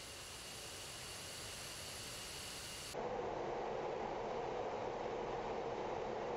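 An F-15E's jet engines roar on takeoff in the DCS World flight simulator game, a loud continuous broadband rush that jumps up sharply halfway through as thrust increases.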